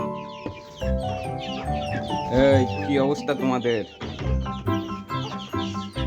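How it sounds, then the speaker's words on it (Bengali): Chickens on a village farm cluck near and loud as they come back to their coop after rain, with a person talking to them over the birds. "চলেন দেখি মুরগির কি অবস্থা, সব মুরগি ঠিকঠাক মতো করে আসছে নাকি।"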